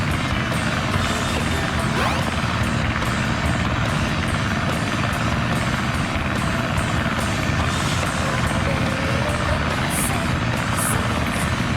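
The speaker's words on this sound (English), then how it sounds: "This plane's cool." Propeller plane flying in the video game Sonic Adventure, a steady droning engine hum with a rapid chopping pulse that holds an even level throughout.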